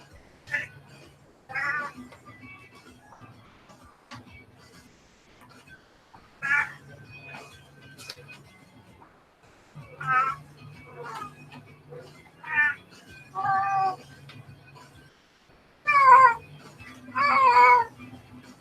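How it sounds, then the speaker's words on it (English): A cat meows repeatedly in short, clear calls of varied pitch, coming in irregular bursts over a steady low hum, with the last few meows loudest and closest. "Great cat."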